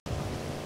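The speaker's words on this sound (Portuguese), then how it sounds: "O bom é que tá chovendo com sol" Steady rain falling in sunshine in the video game GTA V, a dense continuous hiss of rain that starts abruptly and holds at an even, fairly loud level.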